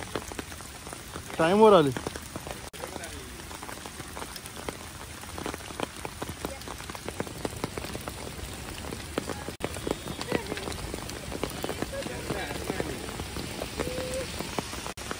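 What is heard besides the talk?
heavy rain falling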